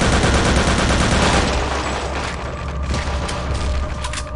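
Sustained machine gun fire in the video game Return to Castle Wolfenstein, a loud, unbroken rattling burst that slowly tapers as the magazine empties, with no talking over it.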